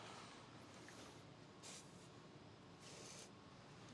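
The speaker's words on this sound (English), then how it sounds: "Spray a little bit of penetrating oil on them just to make it a little bit easier." Penetrating oil sprayed from an aerosol can onto stuck dowel pins in a Subaru EJ25 engine block, two short hissing bursts over a steady background noise.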